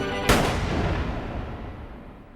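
A single close, loud revolver gunshot cracks sharply out of a steady low background hum, then leaves a long, booming, reverberant tail that slowly fades.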